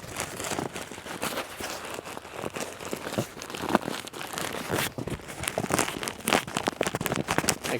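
Therm-a-rest NeoAir Xlite inflatable sleeping pad crinkling as it is pressed and shifted, a close, irregular run of papery rustles and crackles lasting several seconds, with no talking.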